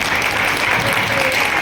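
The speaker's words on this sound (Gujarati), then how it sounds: "આપણે સૌ તેમને તાળીઓથી વધાવી લઈએ" Audience applause at a live musical program with an orchestra in Rajkot, a dense steady clapping from a crowd that continues throughout.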